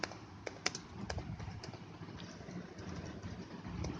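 Faint keystrokes tap on a computer keyboard, a quiet scattering of soft clicks over a low background hum, with no talk.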